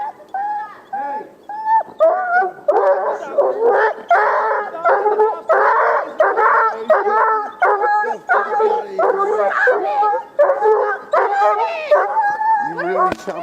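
A German shepherd howls and whimpers loudly and close by in repeated wavering cries after being tased, with only short breaks between them.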